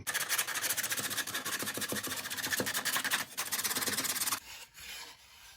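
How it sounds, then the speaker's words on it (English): The edge of a pallet wood shelf board is sanded by hand, giving a continuous close rasping scrape of steady back-and-forth strokes that stops abruptly near the end. "Got to sand the edge here by hand."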